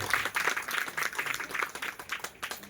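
A crowd at a religious katha gathering claps for a guru's team, a fairly quiet, rhythmic run of hand claps heard from some distance.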